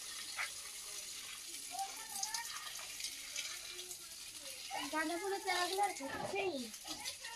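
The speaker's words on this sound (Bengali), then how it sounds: "মুনমুন পাইপে করে জল দিচ্ছে" Water from a garden hose pipe sprays onto a lemon tree and other garden plants in a steady soft splash, partly masked by a child and an adult talking over it.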